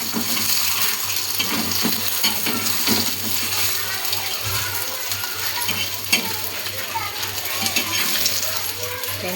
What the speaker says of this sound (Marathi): हा मी इकडे माझ्यासाठी एग फ्राय बनवते